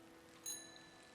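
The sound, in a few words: bell ringing in video game Season: A Letter to the Future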